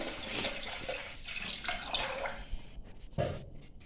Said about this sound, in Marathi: आता ह्यामध्ये परत पाणी घालायचं